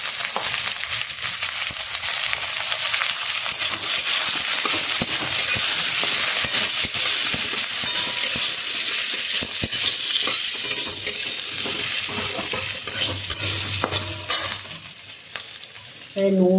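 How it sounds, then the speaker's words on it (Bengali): Onions, potatoes and chopped green chillies sizzle loudly in a pan, with a steady frying hiss and the scrape of stirring throughout. "পেঁয়াজটা ভাজা ভাজা হয়ে এসছে, আমাদের আলু আর কাঁচা লঙ্কা কুচি দিয়ে দিলাম।"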